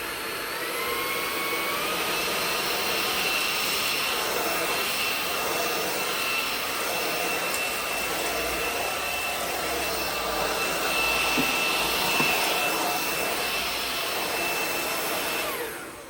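A Milwaukee M18 cordless vacuum cleaner runs steadily and loudly the whole time, a continuous whirring motor drone with a high whine.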